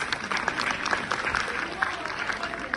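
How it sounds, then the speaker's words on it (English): A quiz group at an icebreaker session claps for everyone, a steady patter of hands with talk mixed through it. "Clap for everyone, please."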